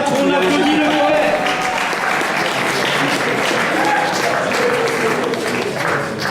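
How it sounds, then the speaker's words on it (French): Audience at a slam poetry contest applauding a poet, loud sustained clapping throughout, with voices mixed in under the applause. "On applaudit le poète."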